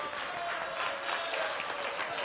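Applause from a church congregation during a pastor's talk-show-style sermon segment, a steady, even wash of clapping from a large crowd lasting a couple of seconds at moderate distance.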